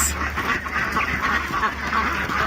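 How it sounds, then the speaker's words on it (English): Muscovy ducks call softly amid a busy flock, with rustling and a low background hum; the calls are continuous and fairly close. "New ducks, muscovies."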